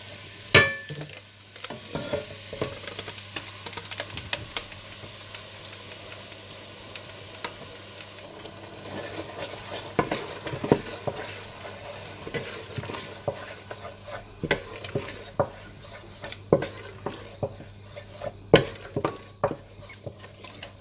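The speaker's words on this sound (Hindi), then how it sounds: "अदरक लहसुन भूनने के बाद आप इसमें दही और ब्राउन प्याज का मिक्सचर डालकर मिला लें।" Soft sizzling under repeated scraping and clinking as a spoon stirs a thick yogurt and browned onion mixture in a pan for Kashmiri gushtaba, the knocks irregular and close.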